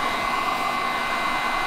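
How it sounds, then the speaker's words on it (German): A hair dryer blows steadily in a loud, continuous rushing whir while drying out a diesel particulate filter during cleaning. "Austropfen, föhnen."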